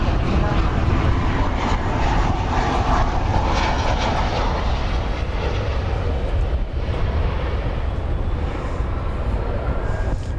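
An American Airlines Boeing 737-800 arriving from Reno at Dallas Fort Worth gives off a loud, steady broadband jet roar that holds throughout, with a voice talking faintly underneath.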